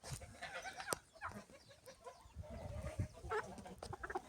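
A rooster crows amid clucking farmyard fowl, moderately close, with other birds chattering in the background.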